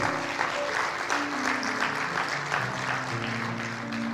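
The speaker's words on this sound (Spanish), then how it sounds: "dale el aplauso al Rey" A church congregation claps for the King in a steady, full round of applause, with a low sustained organ or keyboard tone beneath.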